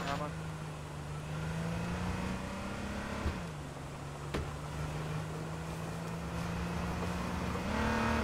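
A car in the video game H1Z1 drives through mountains, its engine droning steadily with small pitch shifts and a rising rev near the end. Voices talk over the engine.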